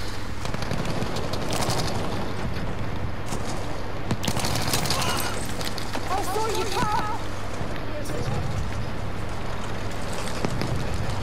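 Gunfire in Battlefield V multiplayer crackles through a dense, steady battlefield din, with shots blending into constant noise and a low engine hum, while a voice talks over it.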